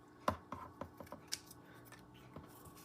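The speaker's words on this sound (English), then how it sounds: "I'm going to take the strips I cut and I'm going to cut them to the right size" Scissors cutting paper strips to size for a craft piece, a series of crisp close snips in irregular rhythm, strongest at the start then fading to occasional quiet cuts, with no talk.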